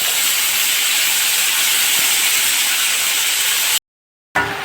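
Curry leaves and drumstick pieces hit hot oil in a South Indian sambar tempering and sizzle loudly, a dense steady hiss that runs unbroken before a short silence and a brief return.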